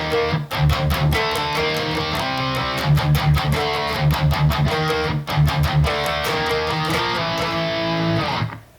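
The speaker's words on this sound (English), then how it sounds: "You can play these pretty easily on one guitar using power chords and then a sliding double stop" Heavily distorted electric guitar playing a riff, chugging palm-muted power chords in tight rhythm alternating with a sliding double stop, loud and dense with no talking.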